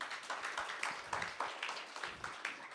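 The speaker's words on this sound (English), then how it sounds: "Give them another applause." An audience at the Kenya Power E-Mobility Conference applauds, with light, fairly quiet clapping that sounds somewhat distant in the hall and keeps a loose, uneven rhythm.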